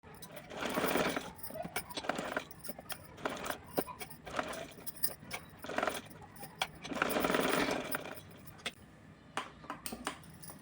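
A sewing machine stitches a small doll dress for Radha ji, running in close, rapid chattering bursts separated by short pauses and light clicks.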